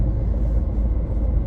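Low steady engine drone and road rumble of an MG car at cruising speed on a highway, heard from inside with the windows closed, brief and fairly loud, no talk.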